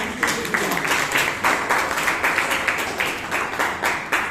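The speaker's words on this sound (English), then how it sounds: "Can you give a big round of applause to all the government takers?" A small audience at a Toastmasters meeting in Bangalore claps together in a brisk, fairly even rhythm, close by and moderately loud for a few seconds.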